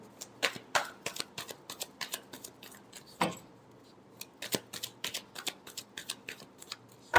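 Tarot cards are shuffled by hand in a quick run of crisp, close riffling snaps and taps, irregular in rhythm, with no talking.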